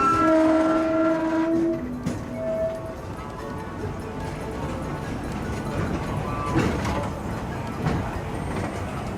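The Disneyland Railroad steam train departs the station: a steam whistle sounds at the start, then wheels clack and rumble along the rails with faint crowd noise.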